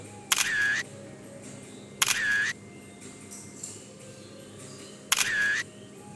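A camera shutter fires three separate times during group selfies, each a short, bright click-and-whir burst standing out against quiet background murmur.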